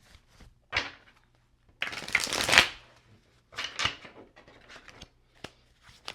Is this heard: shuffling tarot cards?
yes